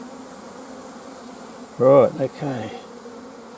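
Bees buzz steadily during the removal of a queen from a hive. A sudden louder, close buzz flares up over the constant hum, and someone briefly speaks.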